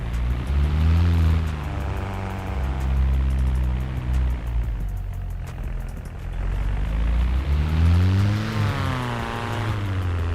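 Steady engine drone of an Alpine A110 in the game City Car Driving, rising and falling in pitch as it revs up, eases off, then climbs again, with layered tones that sound looped and synthetic.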